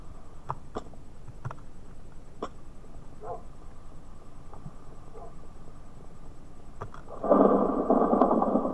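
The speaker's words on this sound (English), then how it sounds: "the lightning was behind it, and it looked like one hit the actual pole" Lightning strikes near a tower in the Minecraft LOTR mod, with scattered sharp cracks and a loud, rumbling thunder burst rising at the end over steady low background noise.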